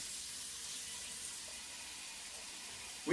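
Tap water runs steadily from a faucet while preparing vegan spaghetti noodles, a soft even hiss lasting about three seconds, alone and fairly quiet.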